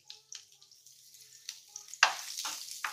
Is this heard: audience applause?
no